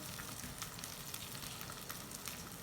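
Okra frying in a pan over a low flame gives a faint, steady sizzle with soft crackles scattered through it and no voices.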